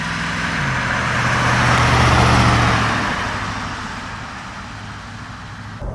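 A 1971 Mercedes 280 SE 3.5 Cabriolet pulling away, its engine note rising and swelling as it accelerates past, then fading into a steady lower drone as it moves off.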